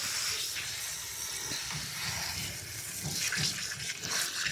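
Steady water runs and splashes onto garden soil while watering, a continuous hissing wash heard up close with no talk.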